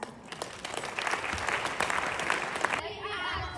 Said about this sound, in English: Please let's get together and clap our hands.